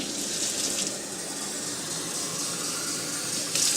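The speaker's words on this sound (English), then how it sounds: "the hotter the tap water is, the faster it cleans the can out" Hot tap water runs steadily into an empty tomato can, a continuous rushing, splashing stream close by with no talk.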